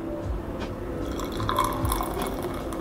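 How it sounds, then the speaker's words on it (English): Freshly opened beer pours into a glass with a steady liquid fill, splashing and foaming at close range, alone without talk. "We're gonna crack this one open. Really excited to get this taste up. Beautiful. I'm ready for this pour"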